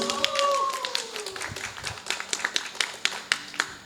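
An audience at a village outreach event against illegal cigarettes gives scattered, irregular hand claps, thin and uneven, following a brief voice at the start.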